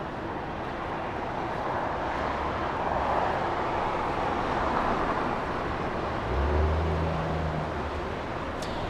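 A KLM airliner taxiing at Los Angeles International Airport and picking up speed, a steady broad jet roar holding at constant loudness with a low engine hum swelling near the end.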